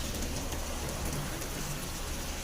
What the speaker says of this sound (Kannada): ಭಾಳ ಮಳೆ ಆಗತ್ತೆ ನಮ್ಮ ಊರಾಗ